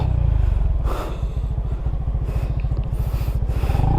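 A motorcycle engine putters close by with a rapid, regular chugging beat, loud and steady throughout before rising slightly at the end.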